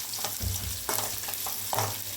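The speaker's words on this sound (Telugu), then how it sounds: "ఇవి చక్కగా ఫ్రై అవ్వాలి మనకి" Mustard-type tempering seeds crackle and sizzle in hot oil in a pan with dried red chillies and onions for a cucumber-tomato dal, a steady close hiss with a few sharper bursts of spitting.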